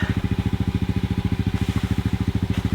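A four-wheeler ATV driving on soft lawn grass, a close, loud engine chugging in a fast even pulse, with no talk over it.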